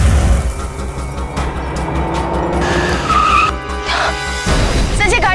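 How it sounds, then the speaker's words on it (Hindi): A car stops suddenly, its tyres skidding and squealing loudly over a rumbling engine, closing in a dramatic abrupt halt with no speech. "गाड़ी क्यों रोक दी?"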